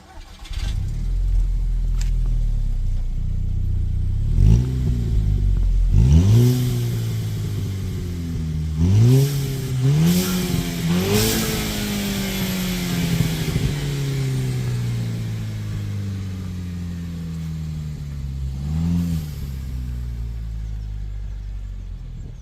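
Two cars idle and rev one after the other, one fitted with a Hornet sport exhaust and the other standard, their engines rising and falling through several sharp revs before settling back to a steady idle.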